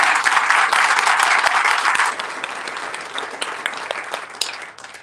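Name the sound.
applause for Randy and his crew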